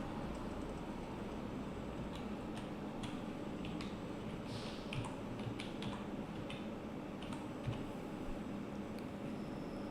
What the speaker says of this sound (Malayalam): ബിസിനസ് നെയിം ഈ ഒരു കോളത്തിൽ നിങ്ങളുടെ ബിസിനസ് നെയിം ടൈപ്പ് ചെയ്യാം